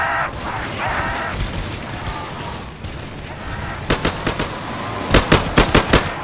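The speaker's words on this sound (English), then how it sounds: "Of course we're going to farm points using our starter pistol" Starter pistol firing in the Roblox game Michael's Zombies: two quick clusters of sharp, close shots near the end, over a busy background of game noise.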